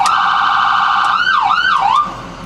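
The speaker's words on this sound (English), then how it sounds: "There's the siren, and then of course you've got wail," A 2008 emergency vehicle's siren sounds loudly up close, holding a steady tone before sweeping into a few rapid up-down yelp cycles, then cutting off abruptly.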